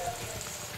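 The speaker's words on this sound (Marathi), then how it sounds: "आता हे याच्यामध्ये आपण हे फ्राय करून घेऊया।" Paneer frying in a pan, a steady close hiss of sizzling oil over a brief moment.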